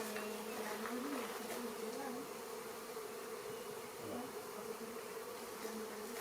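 Honeybees swarm and buzz steadily while being moved into a hive, a dense, continuous drone of many insects at low level with a few individual bees passing closer, no voices.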